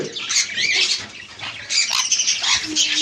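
Sun conures and cockatiels offered for sale squawk loudly and continuously, shrill overlapping cries from several nearby birds filling the scene without any talking.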